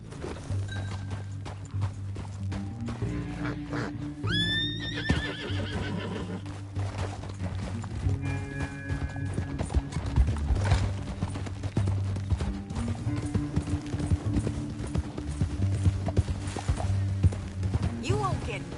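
Horse hooves clip-clop along with a sharp neigh from a horse in the Red Dead Redemption 2 video game, steady hoofbeats running throughout with low talk and ambient game sound underneath.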